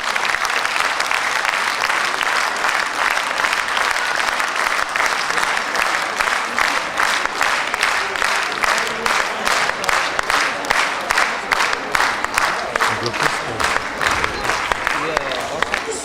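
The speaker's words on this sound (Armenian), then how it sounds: "ծափահարենք և շնորհակալություն հայտնենք Էրգին աշուղական անսամբլի երաժիշտներին" An audience applauds ashugh ensemble musicians at a commemorative concert. Dense, sustained clapping from a crowd swells and continues throughout, with a voice audible at the start.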